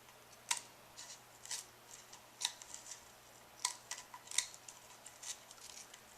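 Scissors snip through the edge of homemade fat grip material, giving a series of sharp, crisp cuts in irregular rhythm, close and fairly quiet, with no talking.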